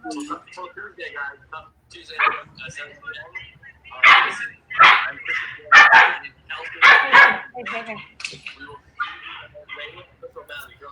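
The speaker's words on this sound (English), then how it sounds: "Sorry about the barking." A dog barks repeatedly in short bursts close by, mixed with whimpering yips, while people talk over and between the barks.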